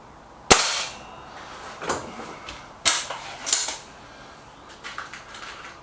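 An SMK Model 19 Supergrade air rifle fires several sharp, close shots at uneven intervals, each a crisp crack followed by fainter clicks and handling noise.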